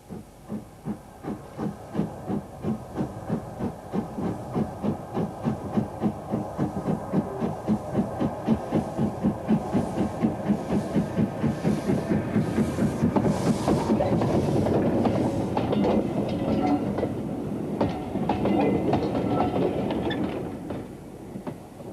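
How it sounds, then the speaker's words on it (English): An LMS Jinty steam locomotive pulls away eastbound at Swanage Junction with a rhythmic chuffing exhaust that quickens and swells, then settles into a steadier hissing rumble as it departs. "A large museum complex has been created at Swanage Junction, where we see the Jinty leaving eastbound."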